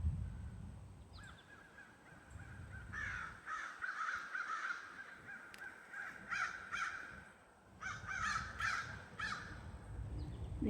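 Crows waiting for peanuts caw outdoors in repeated bursts of harsh calls, fairly faint and distant over a steady background hiss, with a brief lull between groups.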